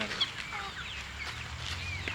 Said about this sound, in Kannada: ಅದು ತಮಿಳ್ನಾಡು ಹುಂಜನಾ?